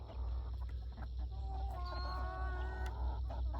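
Chickens scratching around a garden with raised potato beds cluck and murmur close by. Their soft, warbling calls run continuously over a low outdoor rumble.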